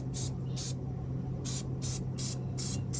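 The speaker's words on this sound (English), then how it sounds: "Should I be doing long sprays? No, I mean just soak it." Liquid sprayer used on a vintage Winnebago RV ceiling repair gives several short, sharp hissing bursts in a broken rhythm over a low steady hum, fairly close.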